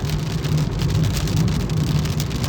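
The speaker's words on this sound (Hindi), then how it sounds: "ये तो बढ़िया बारिश हो रही है, मौसम चेंज हो जाएगा" Steady rain falls on a village in India, a continuous even hiss with a low rumble underneath, close and fairly loud with no talking.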